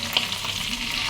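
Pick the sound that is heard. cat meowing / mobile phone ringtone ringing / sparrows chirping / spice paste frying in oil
spice paste frying in oil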